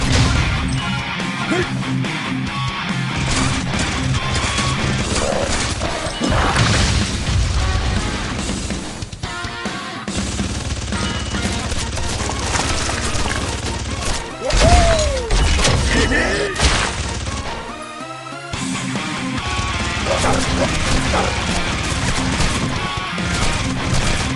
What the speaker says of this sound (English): Blow them up with explosive while there aren't too many of them.